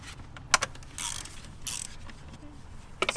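A ratchet with an extension loosening a valve cover bolt on an E90 BMW 328i with the N52 engine gives two short, sharp mechanical clicks near the start and end, close and quiet, with faint rustling between.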